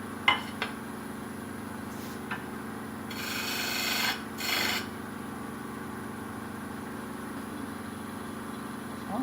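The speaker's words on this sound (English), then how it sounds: "Then I will break out the sandpaper." Sandpaper rubs a small turned wooden snowman on a lathe, in two loud rasping bursts of about a second each with a faint hum running underneath.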